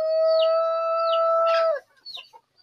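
A rooster's sustained crow rings out close and clear at a village chicken coop, then a few short clucks follow after a brief pause.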